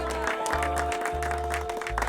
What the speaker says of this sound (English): Let's get a round of applause for Tara Wylde, our Summertide Star.